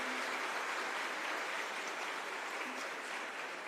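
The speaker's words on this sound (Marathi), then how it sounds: "मला जोरदार टाळ्या होत्या महिला मंडळ." Loud, continuous clapping from the women in an audience at a live Marathi comedy speech, a dense unbroken wash of hands that holds steady from start to finish with no voices.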